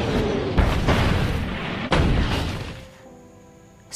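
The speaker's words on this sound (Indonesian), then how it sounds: "Zidi melanjutkan serangan terakhir sebelum ia tak sadarkan diri saat meriam menghantam tubuhnya" Heavy cannon fire and explosions from a war film battle scene, two loud booming blasts with long rumbling tails over continuous roaring battle noise that fades near the end.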